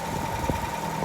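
An engine that has just started after ten months of sitting idles with a steady, even low rumble and a faint constant whine, close by and uninterrupted.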